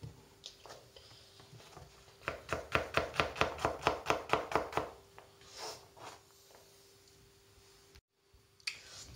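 Green beans being cut together on a cutting board for a birthday buffet salad, a quick run of about a dozen crisp, evenly spaced knife chops, close and clear, then a few slower cuts with no talking.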